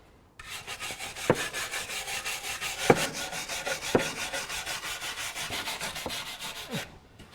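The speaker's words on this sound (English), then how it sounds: "I thought I'd just give the chassis rails on either side a bit of a clean, just to get rid of the worst of that mud" Mud is scrubbed off the chassis rails of a Range Rover in a workshop with fast, even back-and-forth rasping strokes that run continuously for several seconds, punctuated by a few sharper knocks, close and fairly loud, with no talk.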